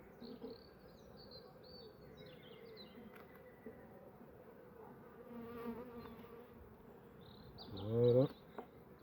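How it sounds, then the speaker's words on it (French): Honeybees from a very weak colony hum in a soft, steady drone inside a hive box, with a sudden louder buzz swelling close by near the end. "ces abeilles on les tape pas dans la caisse"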